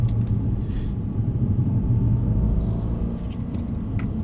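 A Mercedes-AMG C63 in sport mode gives a loud, steady low engine rumble under throttle, with a faint jingle of keys over the top and no talking.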